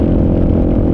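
A Kawasaki KLR motorcycle engine at highway speed, a loud, steady drone with rumbling low tones and wind, close and continuous, with no voices.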